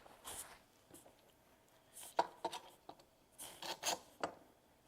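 Faint, sparse scraping and rubbing as wood glue is spread across board surfaces and the boards are lined up, with short irregular strokes and soft contacts close by in a quiet room.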